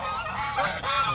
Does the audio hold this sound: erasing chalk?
no